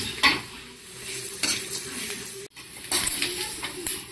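Nigella seeds and other whole spices stirred in a hot pan, a metal spoon scraping and clinking against the pan in uneven strokes over a faint sizzle, with a brief drop to near silence midway.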